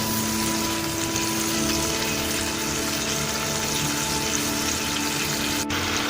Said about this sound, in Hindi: पहले ज़रा चिकन भुन जाए हमारी, फ्राई हो जाए अच्छी तरह से।